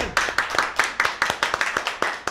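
Applause for Amado Tovar on a talk show, a quick series of sharp, evenly spaced hand claps, close and fairly loud, lasting only a couple of seconds.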